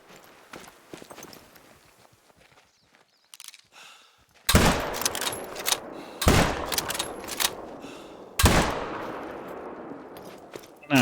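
Hunting rifle shots in theHunter: Call of the Wild, with two loud, sharp blasts several seconds apart, each trailing off in a long rolling echo, after a quieter stretch of faint rustling and small knocks.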